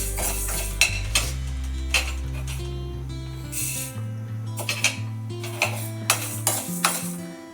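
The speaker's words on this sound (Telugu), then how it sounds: "మెంతులు ఆవాలు దోరగా వేయించుకోవాలి. కొంచెం వేగిన తర్వాత ఆవాలు వేయాలి." Fenugreek and mustard seeds dry roasting in a pan for homemade amla pickle, with repeated close scraping, rattling and metallic clinks of stirring over a steady tonal music bed.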